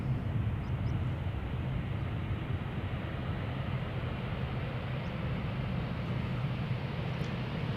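An airliner landing at Amsterdam Schiphol Airport makes a constant broad rumble and roar that holds steady throughout, with no talk.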